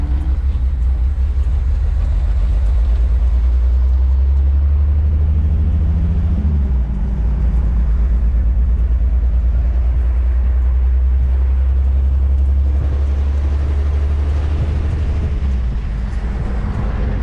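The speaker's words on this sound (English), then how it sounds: "I don't think you can come to Havana without going in a classic car" A classic car cruises through the streets of Havana, its steady low engine rumble droning continuously throughout, with a brief shift in tone partway and no talk.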